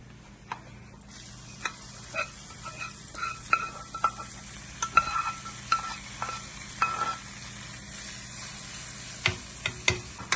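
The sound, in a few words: stirring tempering into ripe mango pulissery curry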